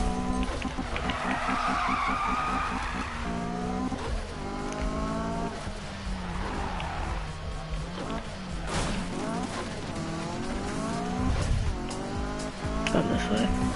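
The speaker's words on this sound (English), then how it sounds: "Drift this way." A Mazda Miata drifts with its tires squealing in long, wavering howls over the strained engine, the squeals rising and falling through the slides. The car stays close and loud throughout.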